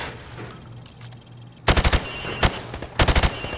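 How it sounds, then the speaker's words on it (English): Rapid rifle fire through plywood at pop-up targets in Call of Duty: Modern Warfare Remastered, three loud bursts of three to four shots each with a single shot between, following a quiet stretch. "I want you to shoot the targets through the wood."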